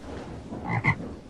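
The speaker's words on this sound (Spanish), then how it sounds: "Rana." A frog croaks twice in quick succession, two short rasping calls standing out against a faint, steady background hiss, then quiet.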